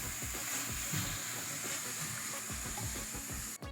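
Zucchini pasta being stirred in a hot pan, with a steady sizzle and soft scraping and clatter running throughout, close and moderately loud, with no voices.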